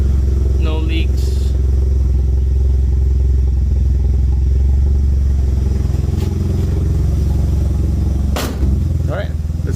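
A Mazda RX-7 with a full C-West kit idles steadily and loudly nearby, with a low, even rumble and a few brief clatters and knocks over it.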